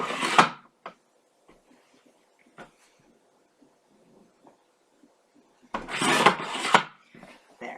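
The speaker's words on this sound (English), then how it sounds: "I'm going to take this piece of chipboard and I'm going to cut just 1/8 of an inch off." A blade trims a thin sliver off a piece of chipboard for a handmade mini album, giving two short, close rasping strokes separated by faint ticks and near silence.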